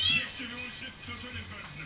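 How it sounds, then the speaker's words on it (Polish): Cat meowing indoors, a short series of plaintive mews close by, with people talking faintly underneath. "Nie znęcaj się już nad kotem."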